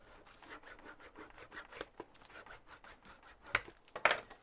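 Paper pocket flap being burnished on a craft album page, heard as quiet, repeated dry rubbing strokes close by, ending with a couple of sharper scraping swipes.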